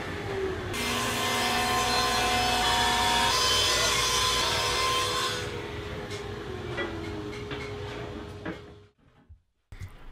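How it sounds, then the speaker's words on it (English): A table saw rips 3/4 inch oak boards in a woodshop, a loud, steady blade whine under load for several seconds, then easing off as the cut ends and the saw spins down, with brief clatter near the finish. "I took all of the 3/4 inch oak to the table saw and ripped them down to the proper width"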